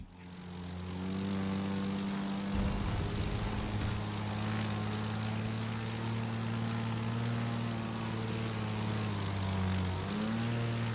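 A propeller plane engine in the racing game The Crew 2 drones loudly and steadily, its humming tone shifting slightly in pitch throughout, with no voices.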